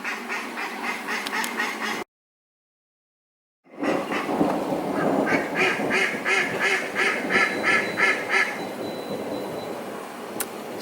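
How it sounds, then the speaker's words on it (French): Bob the duck quacks in loud, rapid, repeated bursts close by, with a short silent gap, then a dense run of raspy quacks continuing outdoors after rain. "Et le canard Bob, il est content, il crie, lui, voilà."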